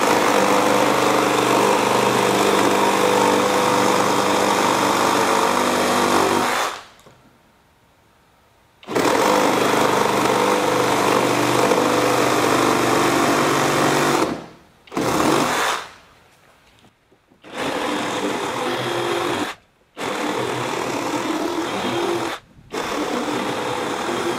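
A FLEX FX2271 24V brushless reciprocating saw cuts through 4x4 wood, a loud, close, harsh buzzing roar in several long bursts separated by brief silences, with no talking.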